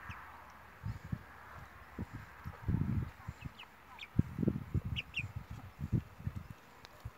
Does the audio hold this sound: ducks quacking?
yes